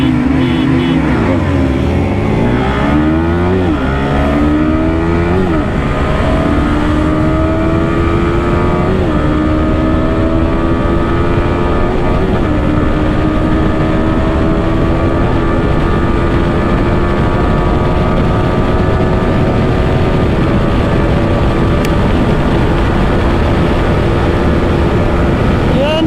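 Bajaj Pulsar NS200 motorcycle accelerating hard during a race against other sport bikes, its engine note climbing steadily through gear changes in a loud, continuous wail with wind rush close by.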